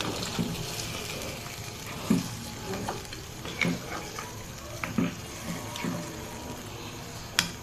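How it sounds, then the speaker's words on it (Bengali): Water added to a pan of chicken curry, hissing and bubbling amid steady sizzling and stirring, with a few louder clinks of a utensil against the pan. "এই পর্যায়ে এসে কিন্তু আমি পানি দিয়ে দেবো"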